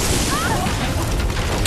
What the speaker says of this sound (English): Oh shit, lightning struck it.